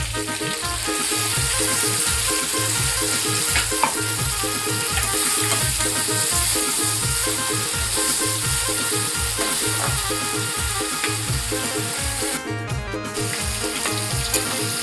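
Tomato puree tipped into hot oil in a home kitchen pan while cooking a prawn bhaji, giving a steady, loud, dense sizzle that runs continuously throughout with a brief brighter burst near the end.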